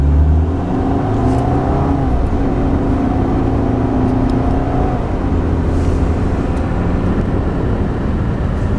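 A Volkswagen car with a Tiptronic transmission accelerating in first gear, a loud steady engine drone with a rising whir heard from inside the cabin, and no talking.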